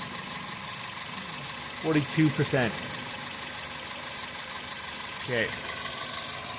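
A 2000 Toyota Celica GTS engine held at a high idle, a steady even drone throughout, while someone speaks briefly over it.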